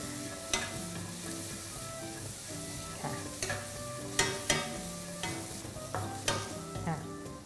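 Mushrooms fry in hot oil in a pan for a crispy mushroom dish, giving a steady sizzle with several sharp clinks and scrapes of a utensil stirring them, close and moderately loud.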